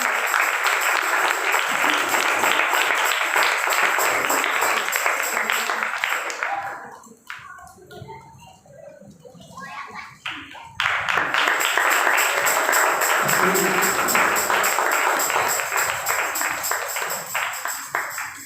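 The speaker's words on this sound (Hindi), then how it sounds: "जोरदार तालियों के साथ आपकी तालियां बताएंगे।" Sustained, loud audience applause at a one-day seminar in a church, with a brief lull midway before clapping swells again to full strength; voices are faintly mixed in.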